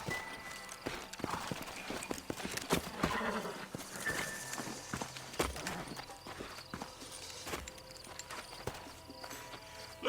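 Horse hooves clip-clop through a Red Dead Redemption game scene, irregular steps mixed with other game sounds and effects at moderate level.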